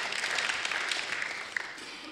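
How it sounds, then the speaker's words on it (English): Applause from a council chamber audience during a Newcastle City Council meeting, a steady dense patter of clapping held at moderate level for about two seconds, with no voices over it. "I hope that applause was for you and not for me."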